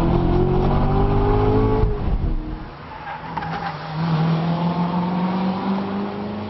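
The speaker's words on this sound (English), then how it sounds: "it blips the throttle, and so it matches the gear perfectly for you" A Corvette Stingray pace car at the Detroit Belle Isle Grand Prix, its engine loud and close with throttle blips, revving and tire noise across the whole stretch.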